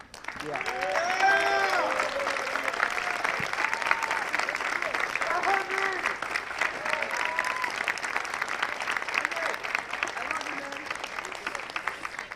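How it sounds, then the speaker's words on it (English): Big round of applause from graduates and faculty at the Army and Navy Academy commencement, loud sustained clapping from a large crowd with cheering and whooping voices rising through it, continuing steadily to the end. "join me in a big round of applause, thanking everyone here."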